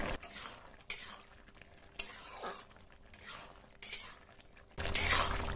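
A spoon scrapes through thick shukto curry with prawns in a pot, in soft strokes about once a second, quiet and close, ending with a louder clattering scrape.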